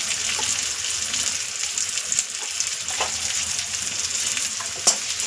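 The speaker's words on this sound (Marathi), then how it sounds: "हे सगळे आता आपल्याला 1 मिनिटभर व्यवस्थित फक्त तेलामध्ये परतून घ्यायचं." Green peas, tomato and coriander sautéing in oil in a pan for tawa pulao, with a steady close sizzle, occasional crackles and a louder spatter near the end.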